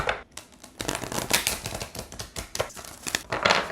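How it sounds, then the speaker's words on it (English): Rapid papery riffling and soft slaps of oracle cards being shuffled, several quick bursts close by with no talking. "I'm going to give it one good shuffle, one good master shuffle as I call it"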